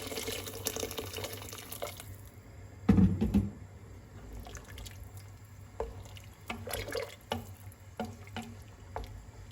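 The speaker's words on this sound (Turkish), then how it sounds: "Nohutların üzerine 3-4 parmak geçecek kadar su koyuyorum." Water running from a tap into a pot of chickpeas, a steady faint trickle with a louder gush around the third second and a few splashy drips later, with no talking.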